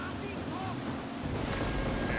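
Racing boats roar in the Hydro Thunder Hurricane video game, a continuous engine and water-spray wash with whooshing motion, loud throughout, and game effects chirp briefly on top.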